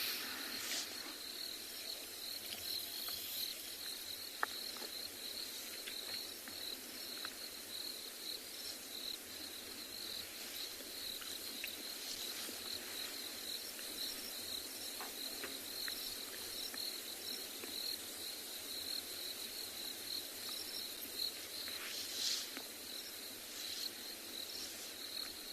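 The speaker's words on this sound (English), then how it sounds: "There's lots of crickets" Crickets chirping at sunset on safari, a dense continuous high-pitched trill holding steady throughout, fairly loud and uninterrupted, with faint scattered ticks from other insects.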